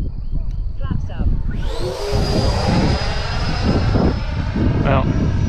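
A Freewing F-22 Raptor RC jet with electric ducted fans whooshes past outdoors, its high steady whine swelling loud over wind noise, while a person talks underneath.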